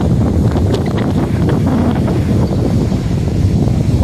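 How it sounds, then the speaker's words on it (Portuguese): Strong wind sweeps through a farm yard lined with rubber trees, roaring and buffeting the microphone in a loud, constant rumble with rustling leaves mixed in. "Acho que vocês estão ouvindo o barulho do vento, né?"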